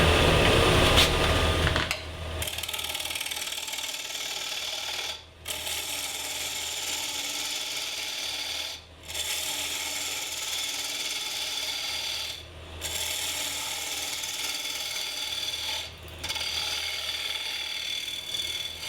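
Wood lathe spinning a birch bowl at about 1,000 rpm while the jaw area is cut down with a small detail tool, a continuous mechanical whir and scraping with several brief dips where cutting pauses, no talk.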